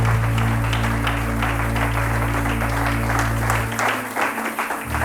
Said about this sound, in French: je veux que tu acclames un peu Jésus.